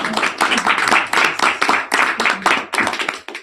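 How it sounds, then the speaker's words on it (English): A few people clapping at a small informal weekly meeting, a sparse, close, uneven patter of individual claps at a steady rhythm, with no voices over it. "Applause"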